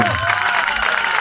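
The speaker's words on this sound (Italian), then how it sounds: "vi chiedo un grande applauso a lui" Concert audience applauding a veteran singer in a theatre, steady dense clapping filling the whole moment with some crowd noise, loud and close.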